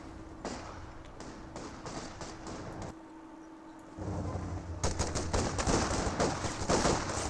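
Bursts of small-arms and machine-gun fire in a real-time strategy war game, rapid rattling volleys that pause briefly, then return louder and denser over a low rumbling background.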